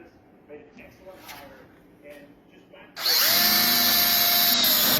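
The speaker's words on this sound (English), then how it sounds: "Now we're going to drill them out." A power drill bores mounting holes in a boat for Minn Kota Talon brackets, starting abruptly after quieter handling noises and running loud and steady with a rising whine until the end.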